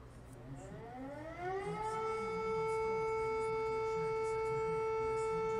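EAS emergency alert siren rising in pitch over about two seconds, then holding a loud steady multi-tone wail, heard alone.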